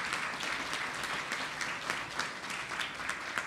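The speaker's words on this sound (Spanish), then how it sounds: "Queremos dar un fuerte aplauso a los docentes y las docentes de Nicaragua" An audience at a national awards ceremony for outstanding teachers in Nicaragua gives steady, dense applause, many hands clapping at once throughout without a break.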